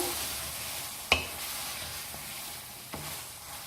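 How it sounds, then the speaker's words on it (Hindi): Eggplant for baingan bharta being fried with spices in a pan over a medium flame, giving a steady soft sizzle with a couple of sharp utensil clicks and no talking. "मसाले के साथ भूनेंगे इनको अच्छा सा"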